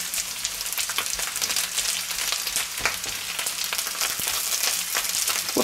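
Pork gyros frying in a pan on fairly high heat, giving a dense, steady sizzle with scattered crackles and spits, heard close and alone.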